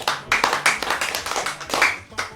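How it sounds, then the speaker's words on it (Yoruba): An audience in a Yoruba podcast studio claps hands together, a dense, close round of rapid, uneven applause with no pauses. "ọ̀yá ẹ pàtẹ́wọ́ ẹ pàtẹ́wọ́"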